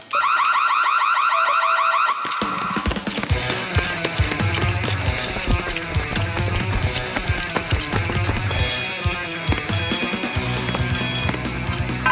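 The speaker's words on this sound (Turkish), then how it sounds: "kapısına yerleştirdiğimiz vericiler de derhal kontrol kutusuna sinyal gönderir ve alarm çalmaya başlar" A home security alarm rings loudly and steadily, a repeating electronic wail that begins abruptly and continues throughout, with a higher beeping tone joining partway through.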